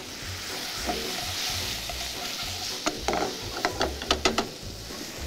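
Garlic, ginger and chopped onion fry in a pan with a steady close sizzle, and a run of sharp utensil clicks and scrapes from stirring comes toward the end.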